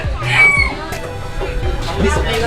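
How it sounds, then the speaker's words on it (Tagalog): Chickens including a rooster cluck and crow close by at a market stall, with bird calls repeating throughout amid background chatter and voices. "Ito dyan, Paul, yung mga manok."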